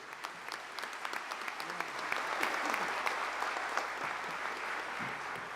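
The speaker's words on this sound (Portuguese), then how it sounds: "Você pode aplaudir por isso?" Congregation applauding during a solemn church ceremony, scattered claps building into fuller sustained applause that continues to the end, moderately distant in a large hall.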